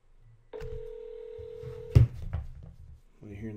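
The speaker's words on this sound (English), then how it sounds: "now I'm going to make an outbound call" An outbound call placed from a cloud contact-centre phone system: a steady dial tone, then a quick run of touch-tone dialing beeps and clicks, followed by line tones, close and clear with faint background hum.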